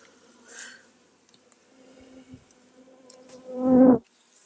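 Honeybees buzzing around an open hive during an inspection, intermittent faint hums with a louder, closer buzz swelling briefly near the end as a bee passes.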